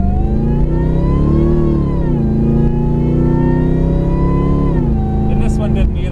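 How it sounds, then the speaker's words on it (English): Supercharged Saleen XP8 engine revving and accelerating up close, a loud, steady harmonic drone that climbs, dips and climbs again with gear changes, with a brief high whine near the end. "I want to, 1, showcase the amazing sounds of the supercharger and car in general"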